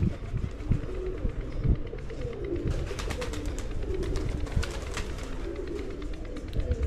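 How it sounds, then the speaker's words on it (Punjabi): Pigeons coo in low, soft repeated calls throughout, with a constant rumbling background and some fluttery noise. "ਤੁਹਾਡੇ ਉਸਤਾਦਾਂ ਨੇ ਇਹ ਵੱਡੇ ਕਬੂਤਰ ਬਾਹਰ ਕੱਢੇ ਨੇ"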